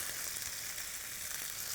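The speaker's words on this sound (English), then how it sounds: "Get that nice and sizzling just to heat that up." Constant loud sizzle of chicken frying in a hot oiled pan, an unbroken hiss with fine crackling.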